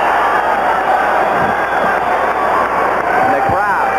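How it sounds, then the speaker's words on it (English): A stadium crowd at a 1984 USFL game between the Gamblers and the Panthers roars steadily before the kickoff, a dense, continuous wash of cheering under a commentator's talk. "And the crowd is ready."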